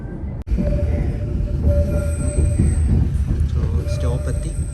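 A train running along the rails in Slovenia gives a steady, moderately loud rumble with a thin, sustained wheel squeal above it, heard from inside and continuous for about five seconds.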